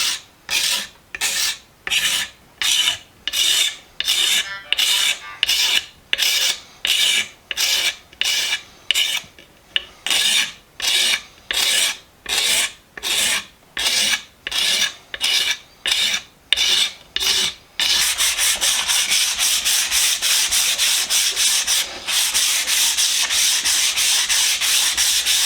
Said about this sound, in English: Let's get to scraping on this handle.